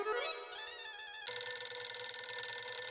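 A phone rings with a bright, melodic electronic ringtone that changes pitch partway through and keeps chiming steadily, moderately loud and alone.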